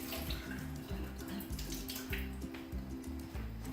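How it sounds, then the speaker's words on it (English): Tap water runs steadily into a sink while yeast is rinsed off hands, with a soft, continuous splashing and a low, repeating gurgle, fairly faint and without talk. "So just rinse all this yeast off my hands."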